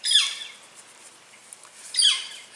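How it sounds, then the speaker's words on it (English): A northern flicker calls from a tree in damp morning woods near a tent, two sharp high squawking notes about two seconds apart, fairly close and otherwise quiet. "That's a northern flicker."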